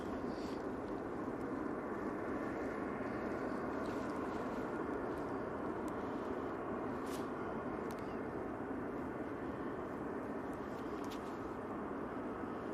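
A jet airliner inbound from Gatwick approaches Manchester Airport, heard as a steady, distant broadband roar that holds level and fairly faint throughout without clear rise or fall.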